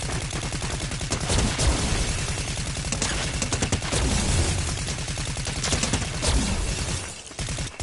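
Rapid automatic gunfire in Fortnite played on a PS5, loud and almost unbroken, a steady stream of fast repeated shots that carries on nearly to the end before dropping away.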